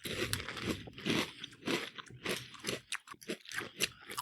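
Golden Grahams cereal eaten in milk gives repeated close, loud crunchy chews in an uneven rhythm, crisp crackling bursts with no talking.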